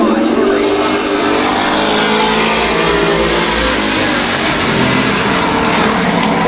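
Race cars circle a speedway track at Midvale Speedway, a steady loud roar of engines filling the air throughout, with an announcer talking over the noise.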